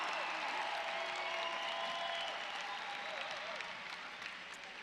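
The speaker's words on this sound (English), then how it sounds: "can we just give a round of applause to all of our 2023 graduates?" Sustained applause from a sizable crowd at a high school graduation ceremony fills the space, steady clapping that gradually tapers slightly toward the end.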